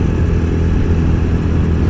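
A modified TVS Apache RTR 200 motorcycle engine runs with a steady, deep rumbling drone, close and fairly loud, with no talking.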